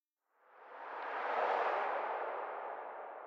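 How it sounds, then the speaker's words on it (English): A Foley passing-car whoosh swells up from silence, peaks in the middle and lingers as a soft, smooth broadband sweep panning left to right, alone without voices. "And also got a passing car sound here, kind of a Foley sound that goes from left to right."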